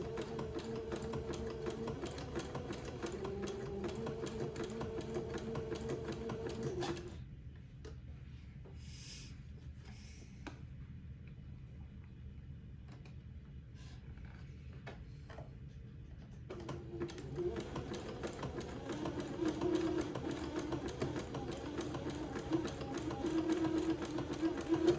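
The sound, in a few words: sewing machine zigzag stitching lace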